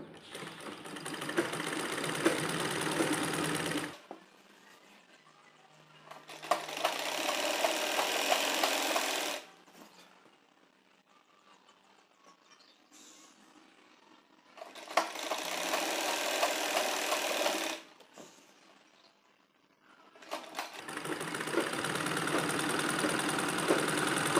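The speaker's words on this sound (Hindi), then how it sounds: "और यहाँ पर हम सिलाई करते जाएंगे एकदम किन्नौर पर।" An electric sewing machine stitches a six-panel petticoat in four steady runs, each a few seconds long, separated by quieter pauses of cloth handling.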